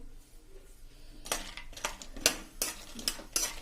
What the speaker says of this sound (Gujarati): એને આપણે સેજ રોસ્ટ કરી લેશું, ઘીમાં સાંતળી લેશું